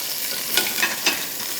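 Minced meat (qeema) frying in a hot pan with garam masala, a loud continuous close sizzle with a few brief stirring scrapes, no talking.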